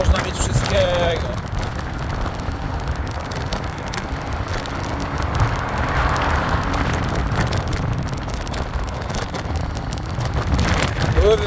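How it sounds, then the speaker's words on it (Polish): Rain falls outdoors in a steady, close patter on nearby surfaces, mixed with gusty background rumble, while someone speaks over it. "Kurwa pada."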